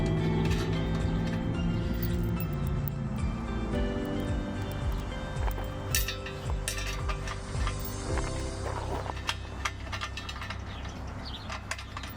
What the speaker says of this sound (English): We're going to go ahead and hand thread these in there.